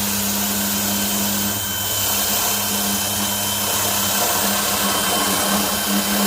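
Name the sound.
drilling a hole in a boat console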